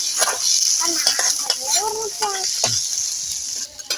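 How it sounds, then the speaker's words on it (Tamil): Beaten egg sizzling in a pan for chicken kothu parotta, stirred with a spatula that scrapes and taps the metal over continuous frying hiss, with brief faint voices in the background. "ஸோ முட்டையை வந்து நம்ம கிளறி விட்டுக்கலாம்."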